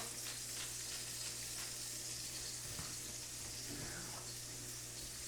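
Five hamburger patties seasoned with pepper fry in a pan, giving a steady, close sizzle and crackle that holds evenly throughout with no talking over it.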